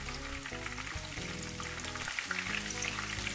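Fish fingers frying in a pan over medium flame, a continuous sizzle and spatter with bubbling crackle, close and steady for a few seconds, no speech.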